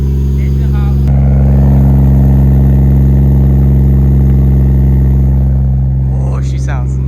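A car with a TH400 automatic transmission rumbles loudly up close with a deep, steady low-pitched engine drone, holding at a constant idle-like level.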